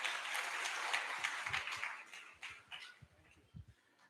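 An audience applauds at a Central Bank of Nigeria fair in Bauchi. The dense, crackling clapping is fairly faint, thins over a few seconds and ends in scattered last claps.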